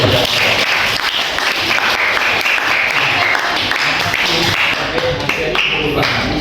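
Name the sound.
class applause, clapping hands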